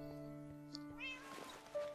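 A cat meows in the Minecraft video game, a couple of short quiet mews over a steady game background hum, faint and close, with a brief click before them.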